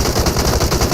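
Pistol fire in the video game PUBG Mobile rings out as a loud, close string of rapid, evenly spaced shots, about seven per second, with no pause.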